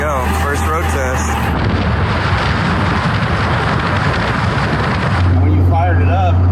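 A Cummins diesel-swapped Chevy squarebody truck roars steadily on a road test, its loud engine holding a continuous drone with a louder, deeper pull near the end.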